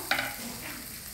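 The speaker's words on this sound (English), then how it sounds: "Lightly saute it." Red rice poha sautéing with onions and freshly chopped coriander in a pan, a soft steady sizzle under a quick scrape of stirring near the start, close and without talk.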